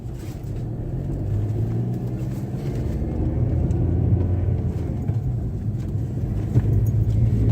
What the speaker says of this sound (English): we're going to start her up